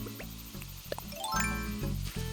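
Small waterfall in Animal Crossing New Horizons, a faint trickling splash of falling water running steadily beneath louder plinking game music with rising chimes, no voices.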